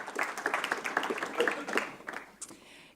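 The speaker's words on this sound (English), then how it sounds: "give them a round of applause" An audience at an architecture event claps as team members are called to the stage: a short, fairly faint patter of hand claps that thins out toward the end.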